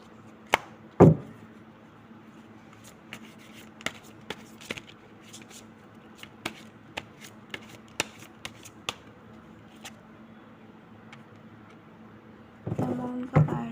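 Tarot cards shuffled and tapped by hand, a string of crisp, sparse clicks and flicks, with a sharp snap early on and a brief rustling burst of shuffling at the end.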